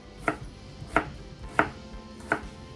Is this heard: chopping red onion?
yes